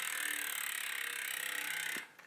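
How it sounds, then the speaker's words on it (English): A Chris King rear bike hub on a cruiser bike freewheels with a rapid, even ratchet buzz of fine clicks that holds steady for about two seconds and then stops abruptly, fairly faint and alone. "And then I have a Chris King hub in the back."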